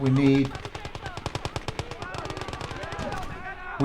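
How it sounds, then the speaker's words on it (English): Rapid machine gun fire rattles in a steady burst of regular shots in the video game Legion of the Damned, loud and close, with brief voice-like tones at the start and end. "They've got machine guns there."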